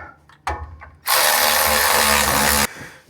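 A ratchet wrench tightens gold lug nuts on a car wheel, giving one loud, steady burst of dense mechanical clicking for about a second and a half, preceded and followed by a few faint knocks.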